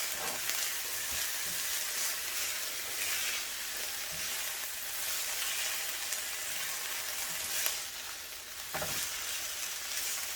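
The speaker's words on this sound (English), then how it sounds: "We have the soybean sprouts cooking almost to an almost golden brown" Soybean sprouts fry in a pan toward golden brown, giving a steady, close, continuous sizzle with crackling hiss and occasional stirring scrapes, no talking.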